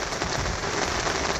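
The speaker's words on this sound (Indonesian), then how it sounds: "Tuh hujannya terus petir mulu." Heavy rain drums steadily and loudly on a tent at a mountain camping ground during a thunderstorm, a dense continuous patter with no talk.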